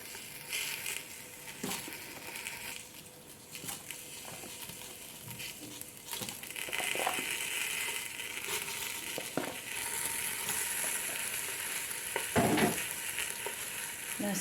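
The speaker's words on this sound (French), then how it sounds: "Je vais ajouter mes merguez maintenant." Merguez sausages sizzle and fry steadily in a hot pan while lentils are cooked, a continuous crackle with occasional stirring and scraping, near and moderately loud throughout.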